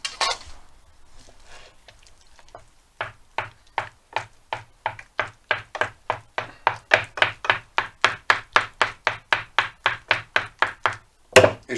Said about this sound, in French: J'incorpore un petit peu de mes œufs.